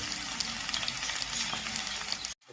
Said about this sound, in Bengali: আলুটা ভাজা হয়েছে, এবার কপিগুলো দিয়ে দেওয়া হচ্ছে